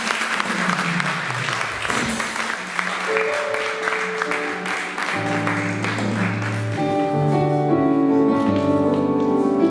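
A church congregation in Nantes claps and cheers for a pastor, dense applause layered with sustained organ or keyboard chords that swell louder toward the end.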